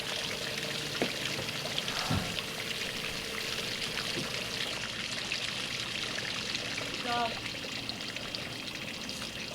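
Water runs and splashes in a steady trickling stream during an engine test on a Glastron Carlson CVX23 boat, fairly faint, with a voice briefly heard over it.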